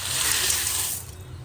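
Pasta tipped into a pot of hot water on the stove gives a steady rushing, splashing hiss for about a second, then quickly fades.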